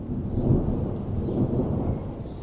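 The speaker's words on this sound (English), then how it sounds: "Just a few sounds of thunder remained in the distance." Low, rolling thunder rumbles in the distance, soft and sustained, with no voices.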